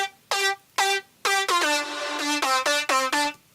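A dry saw-wave synth lead from the Spire plugin with no reverb plays choppy, sharply cut stabs and one longer held chord, bright and upfront with silent gaps between the notes, heard alone.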